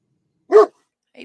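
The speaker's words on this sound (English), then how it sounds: "Sorry about the dog." A dog indoors gives a single loud, close bark, followed a moment later by the start of another faint yip.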